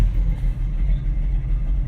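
A 1968 Chevrolet Camaro engine heard close as a steady, deep low rumble with a slightly uneven pulsing throb, loud and alone with no talk.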